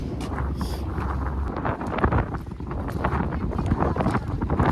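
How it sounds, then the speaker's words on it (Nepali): Strong wind gusts buffet the microphone, a rough roar that rises and falls throughout. "हावा चाहिँ एकदम लागिरह"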